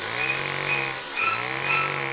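Chainsaw engine running steadily at a winter carnival, a continuous buzzing drone with slight rises and dips in revving, fairly close and loud, no voices.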